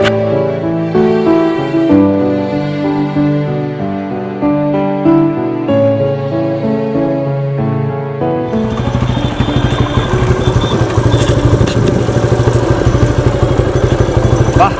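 A motorcycle is ridden, its engine a rapid, close, rhythmic putter that takes over after about eight seconds of tuneful music, continuing loud to the end.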